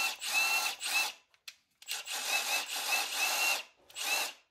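A Milwaukee half-inch drive impact wrench running in close, loud bursts of rapid hammering buzz, three long runs separated by brief pauses with a couple of short blips.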